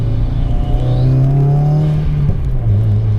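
A Stage 2 Subaru WRX engine is pushed hard as the car is driven sideways through snow. One loud, sustained engine note climbs and holds, then briefly drops and picks up again, heard up close.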